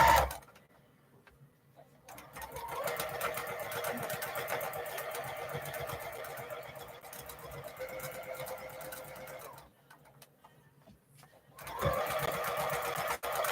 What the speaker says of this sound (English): This is free motion quilting without rulers